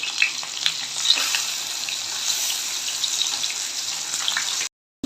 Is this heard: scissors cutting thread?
no